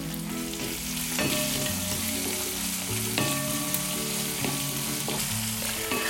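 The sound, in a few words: onion frying in pan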